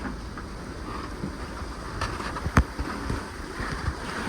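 Sailboat moving under sail past rocky shore near Airlie Beach against current, with steady water wash and wind rumble throughout, a few soft splashes and knocks standing out near the middle.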